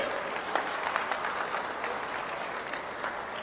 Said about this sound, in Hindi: एक बार जोरदार ताली बजाकर स्वागत करें